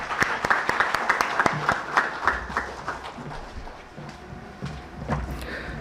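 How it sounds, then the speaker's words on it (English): An audience at a school education reform event applauds to welcome a speaker, a dense, sustained round of clapping with sharp individual claps throughout. "Please join me in welcoming him with a huge round of applause."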